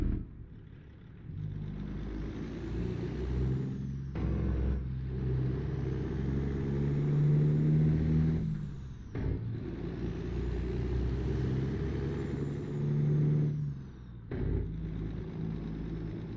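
Truck engine in the trucking video game American Truck Simulator: a steady, droning rumble that cuts out briefly a few times as if shifting gears, then picks back up, close and moderately loud, with no voices.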